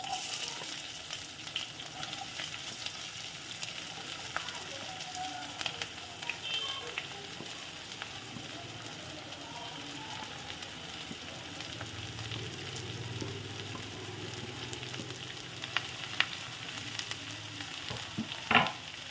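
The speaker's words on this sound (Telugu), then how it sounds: "ఇప్పుడు ఉల్లిపాయలు వేసేసుకుందాం" Onions, garlic, cumin and curry leaves fry in a pan with a continuous hissing sizzle for nearly twenty seconds, broken by a few sharp utensil clicks near the end and no voices.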